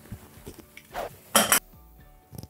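Cover being taken off an Allett Liberty 43 cylinder mower: a few close metallic clinks and clatters, sparse and irregular, with one louder rattling clank near the middle and no talk.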